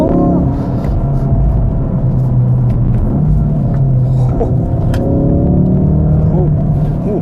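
A Ford Focus RS driven hard in sport mode, its engine droning loud and steady from inside the cabin with rising and falling revs as someone speaks over it.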